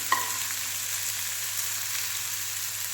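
Onions frying in a pan for a yellow pumpkin stir-fry, a steady close hiss of sizzling oil with no pauses and one small clink near the start.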